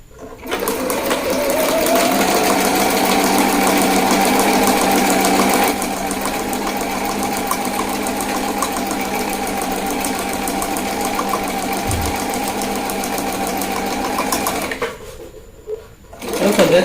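A sewing machine stitches a boning channel on a corset bodice, whirring steadily and loudly for about fourteen seconds with a slight drop in pitch partway, then stopping abruptly near the end.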